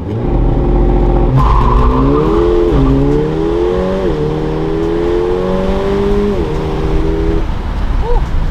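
A Mercedes-AMG, either a 625 hp rear-drive AMG GT S or a 430 hp all-wheel-drive CLA45, launches hard on a 0-60 run, its engine climbing through several gears with audible shift breaks, loud and close throughout.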